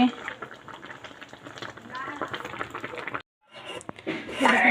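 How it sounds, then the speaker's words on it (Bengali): Taro stems (kochur data) boiling in a pot on a home stove, a steady bubbling churn with a short break near the end, heard with some background noise and faint voices. "আজকে কচুর ডানটি রান্না করব তাই কচুর ডানটিটা সিদ্ধ করে নিচ্ছি"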